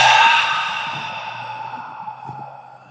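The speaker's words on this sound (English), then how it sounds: "Take a full inhale through your nose, and an open mouth exhale." An open-mouth exhale during a breathing exercise, one long audible sigh-like breath out that starts strong and slowly fades, close to the mic.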